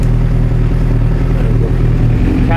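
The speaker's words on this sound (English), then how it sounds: "Engine doesn't sound too bad." A Suzuki GSX-R1000 motorcycle engine idles steadily and close by during a rebuild, with a deep, even rumble that holds for the whole moment and rises slightly near the end.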